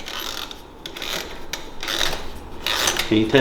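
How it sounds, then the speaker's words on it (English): Rear tire of an MB200 Trialmaster mini bike spun by hand with a suspected bent jack shaft and wonky pulley, giving a soft rubbing, whirring mechanical sound with faint rhythmic scraping, and a brief spoken question near the end. "Spin the tire and see"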